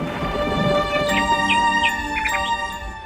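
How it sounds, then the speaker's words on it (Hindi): Steady rain falls as a story sound effect, a continuous hissing patter beneath sustained tonal background music with a few brief higher chirping notes. "उस साल बारिश भी खूब हुई।"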